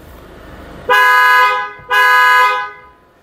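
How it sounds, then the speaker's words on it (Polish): Two loud, sustained electronic horn blasts from a Volvo XC60 alarm siren, each about half a second long, sound close by with a short pause between them. "Za chwilę włączy się syrena alarmowa."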